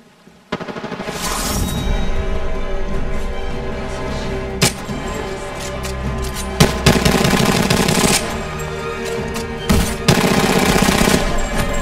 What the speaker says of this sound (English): Enemies are shooting at me.